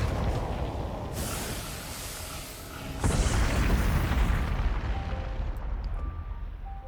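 A cannon in Tears of the Kingdom fires and explodes, giving a loud, sustained rumbling boom that swells sharply partway through and then fades under faint electronic tones.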